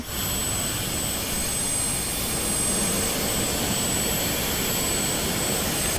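Twin jet engines of a Phenom 100 business jet in Microsoft Flight Simulator roar at high power, a loud, steady broadband rumble with a thin whine on top that holds without pause and with no voices.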